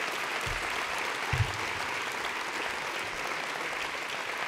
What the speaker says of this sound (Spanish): os pido un inmenso aplauso